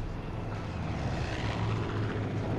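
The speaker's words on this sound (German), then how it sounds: "Jetzt verfolgt uns das Flugzeug." An aircraft chases the player in the video game Far Cry 5, giving a steady, dense engine roar that stays loud and even throughout, with no talk.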